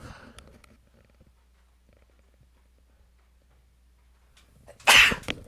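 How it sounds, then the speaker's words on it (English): A single sharp sneeze bursts out near the end after a long quiet stretch with only a low hum beneath. "I thought I lost the sneeze"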